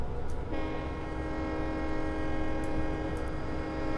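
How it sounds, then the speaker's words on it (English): A sustained, steady train horn blares loudly for several seconds over a low rumbling engine in the video game Train Simulator 2016, holding one chord throughout. "Let's honk our horn while we pass them."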